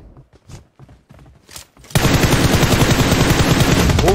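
Video game gunfire: after a couple of seconds of quiet voices and movement, a loud, dense burst of automatic fire erupts and continues steadily to the end.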